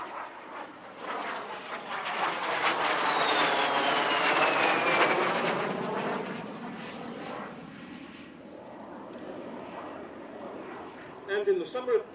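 A de Havilland Vampire FB6 jet fighter-bomber of the Royal Norwegian Air Force Historic Flight passes at an airshow; its engine roar swells with a falling whine as it goes by, then fades away.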